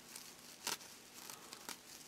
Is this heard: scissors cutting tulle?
yes